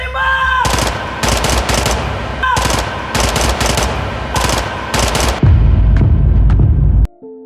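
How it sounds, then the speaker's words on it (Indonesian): Loud machine gun bursts in a film shootout, several rapid staccato volleys separated by short pauses, followed by a heavier sustained blast before sudden near-silence. "Berondongan dari Borne membuat Pak Ray tewas seketika"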